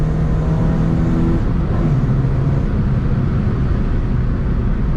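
A Renault Clio 2 with a 1.6 16v engine pulls hard in third gear past 4000 rpm, its engine note loud and close, rising steadily then levelling into a sustained drone with road noise.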